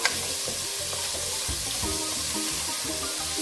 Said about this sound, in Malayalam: സവാള പെട്ടെന്ന് വഴന്ന് കിട്ടുന്നതിന് വേണ്ടി ഞാൻ ഒരല്പം ഉപ്പ് കൂടി ചേർത്ത് കൊടുക്കുന്നു ഒന്ന് ഇളക്കി കൊടുക്കാം